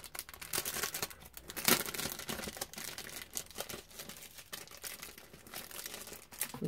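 Wrapping paper crinkles and tears in quick, irregular bursts as an item from a craft goodie box is unwrapped, close up and fairly quiet, with one sharper rustle partway through.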